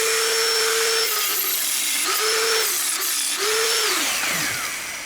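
An 8.5mm jobber drill bores out punched threads in metal on a bench mill, a loud continuous whine with squealing, rising and falling pitch as the bit cuts in repeated passes.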